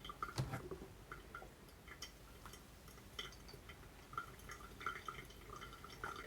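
Water from a pour-over coffee brew dripping through the grounds, a steady scatter of small, quiet drips and ticks with one louder drop near the start, no voices.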